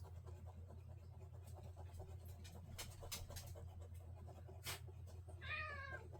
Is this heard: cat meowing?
yes